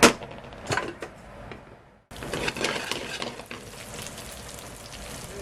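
Ginger slices and chili frying in oil over a high flame, a steady close sizzle that jumps up sharply after a quieter start with a few clinks, then holds as a dense crackling hiss.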